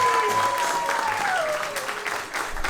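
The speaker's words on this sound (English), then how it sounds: "Big round of applause for them." Wedding guests applaud steadily on a dance floor after a father-daughter dance, a dense continuous patter with a sustained musical tone running through it and a voice faintly under the clapping.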